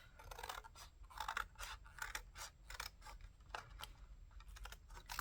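Scissors snipping through paper for a collage, a quick run of close, crisp cuts and rustles, fairly faint, with no voices.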